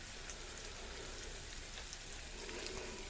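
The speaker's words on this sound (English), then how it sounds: "So we bring this to a boil." Hard candy sugar syrup boiling in a pan, a dense steady bubbling hiss with faint pops, continuous and even throughout, close and moderately quiet, no voices.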